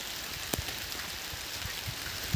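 Rain falls steadily on a garden with succulents and flowers, a soft continuous patter with a few sharper drops striking nearby surfaces.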